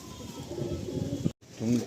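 Pet pigeons offered for sale coo softly nearby, a low throaty burble that recurs briefly over a couple of seconds, mixed with some background noise.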